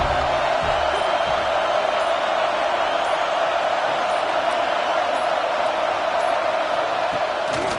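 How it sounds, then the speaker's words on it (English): A packed stadium crowd at a USC college football game sends up a loud, continuous roar of cheering that stays dense and steady from start to finish, with no pauses. "This crowd ready to make its presence known."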